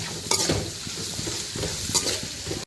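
Vegetables frying and browning in a pan: a steady close sizzle broken by a few scraping stirs of a spoon against the pan, with no talking.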